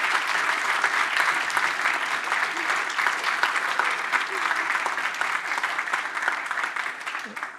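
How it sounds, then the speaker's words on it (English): Sustained audience applause fills the hall at the closing of a renewable hydrogen summit, a steady dense clapping that holds at an even level throughout without fading. "And finally, I'd like a round of applause to them"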